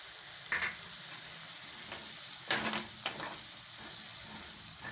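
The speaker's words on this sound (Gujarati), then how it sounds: "બધું મિક્સ કરી લઈશું." Curd being stirred into green turmeric curry in a hot pan, a soft continuous sizzle broken by a few scraping spoon strokes, close but fairly quiet, with no talk.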